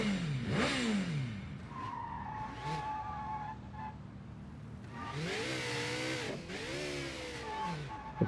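A motorcycle ridden in the video game Sleeping Dogs, its engine revving up and down in rising and falling sweeps, with tyre skids and squeals cutting in, loud and continuous throughout.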